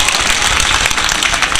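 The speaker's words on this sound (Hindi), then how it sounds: "एक बार तालियां बजा दी हुई चंदापुर वालों के लिए।" Applause from a mushaira audience in Babuganj, a dense broadband wash of many hands clapping steadily and fairly loud throughout, with no voices over it.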